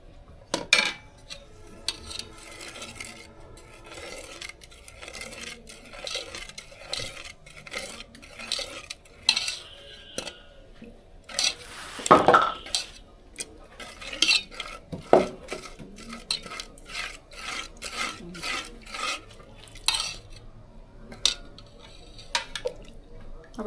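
A spoon stirs milk mixed with date palm jaggery in a metal pot, producing repeated clinks and scrapes against the pot with soft liquid sloshing and irregular taps throughout.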